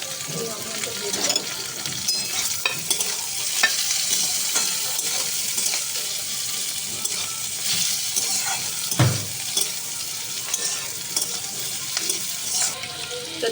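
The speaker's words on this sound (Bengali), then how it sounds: "এবারে আমি স্প্রিং অনিয়নগুলো দিয়ে দেবো।" Spring onions tossed into baby corn frying in a hot pan, with a steady loud sizzle throughout and a spatula scraping and stirring, plus occasional clinks of utensils.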